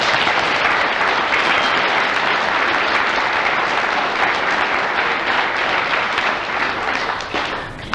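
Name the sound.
audience applause at a school assembly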